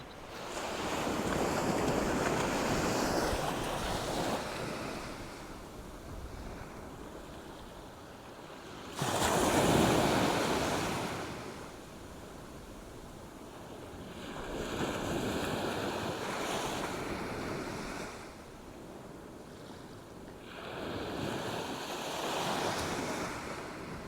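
Sea waves roll in at Sea Palling beach in Norfolk, a steady surging wash with several swelling breakers and crashes, close and loud, mixed with wind buffeting the microphone.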